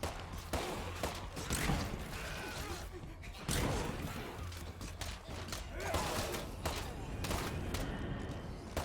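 Gunfire in State of Decay 2 while fighting a feral zombie in a lethal zone, several loud shots and impacts ringing out amid busy game noise and mechanical clatter, close and dense throughout.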